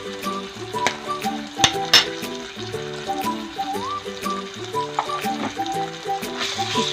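Ginger garlic paste frying in a pan, a continuous close sizzle broken by irregular clinks and scrapes of a spoon against the metal, with one sharp knock near the middle.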